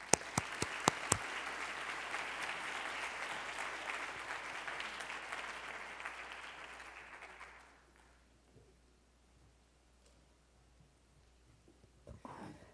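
An audience at a county social welfare conference plenary session welcomes a speaker to the podium with a loud burst of clapping that fades out after about eight seconds, leaving quiet room tone and a few small noises.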